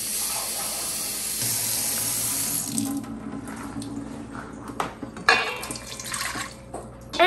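Water running from a tap to be weighed for sourdough baguette dough, a steady hissing stream that fills the first seconds, then thins out and gives way to clattering and handling sounds at the sink.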